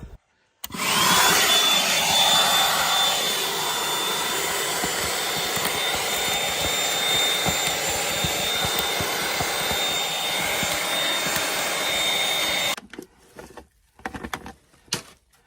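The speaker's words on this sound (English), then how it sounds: "we're going to suck out all the little cracks and crannies" A vacuum sucks debris out of rock cracks at a desert waterfall while prospecting for gold, a loud continuous roaring whine running steadily for about twelve seconds before cutting off into scattered rattles and knocks.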